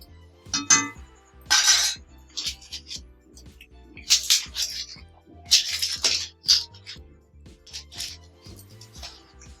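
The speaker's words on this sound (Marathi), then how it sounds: "थोडी आपल्याला ढवळायची आहे मॅगी." Maggi noodles stirred in a pot on a wood-fired stove in the Konkan, with irregular scraping and clinking bursts of metal against metal over quiet pauses and a faint low rhythmic hum.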